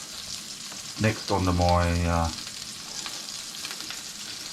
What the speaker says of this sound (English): while I've got my patty, my onions cooking away over there